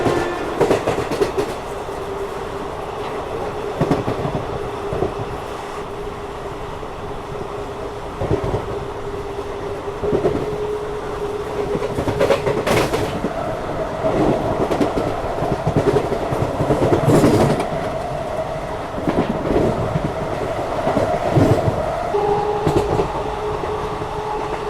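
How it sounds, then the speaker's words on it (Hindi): A New Delhi–Howrah special train with ICF coaches runs at speed, a steady loud rumble with rhythmic wheel clatter and occasional squeals throughout. "बाकी इसी रफ्तार में हमारी ट्रेन खुर्जा जंक्शन को स्किप कर रही है।"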